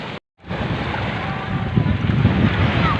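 A motor boat, a bangka, speeds over choppy waves off Nasugbu, Batangas, with loud steady engine drone, rushing water and heavy wind buffeting the microphone after a brief dropout at the start.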